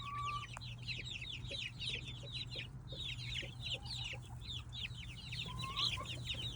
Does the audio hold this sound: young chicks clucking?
yes